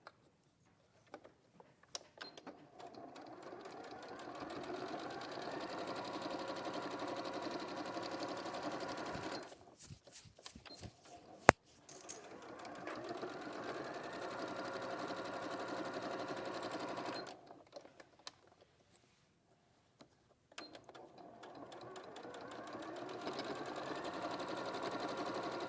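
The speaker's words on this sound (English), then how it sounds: "So I'm going to stitch on the top." A domestic sewing machine stitches along the top of a fabric piece in three sustained runs, with short pauses and a few sharp clicks between them, heard close and steady.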